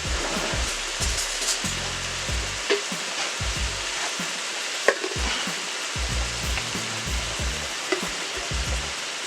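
Minced garlic sizzles in a hot pot of beef tips for gravy. The frying hiss is loud and steady, and soft stirring scrapes and pops run through it from start to finish.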